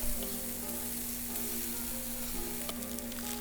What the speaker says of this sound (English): Fry the radish leaves.